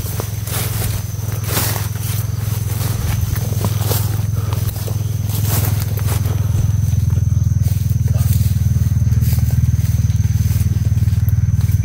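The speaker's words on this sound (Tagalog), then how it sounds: "Parang may motor." A motorcycle engine drones steadily at close range for the whole stretch. Scattered crackling and rustling noises sit on top of the drone.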